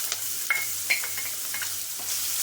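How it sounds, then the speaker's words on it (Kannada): Green chillies slit lengthwise frying in a pan over a low flame for rava pongal, giving a soft steady sizzle with a few light stirring scrapes and small pops, close and alone. "ಮತ್ತು ಒಂದು 4 ರಿಂದ 5 ಹಸಿಮೆಣಸಿನ್ಕಾಯಿ ಉದ್ದುದ್ದಕ್ಕೆ ಸೀಳ್ಕೊಂಡು ಹಾಕ್ಕೊಂಡಿದ್ದೀನಿ. ಲೋ ಫ್ಲೇಮಲ್ಲೇ ಹುರ್ಕೊಳ್ಳಿ."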